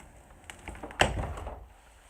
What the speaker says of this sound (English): Now, oh, can we try to get rid of this door?